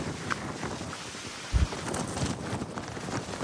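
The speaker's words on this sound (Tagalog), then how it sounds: "Lakas ng hangin." Gusty wind on a hillside beach lot before rain rumbles and thumps against the microphone, with a sharp low buffet in the middle and steady blustery noise around it.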